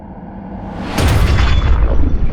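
A .50 caliber incendiary round strikes a tungsten cube with a sudden loud boom that rolls into a sustained roaring burst, heard close after a brief quiet lead-in.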